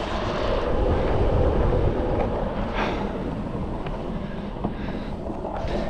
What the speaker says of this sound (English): Sorry if the wind's just cutting.